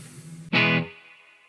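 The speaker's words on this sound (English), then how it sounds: "it's a really long reverb, really long decay" A single distorted electric guitar note or chord struck with a plate-style reverb, ringing out briefly and then trailing into a long, smooth decay tail with no adjustable settings.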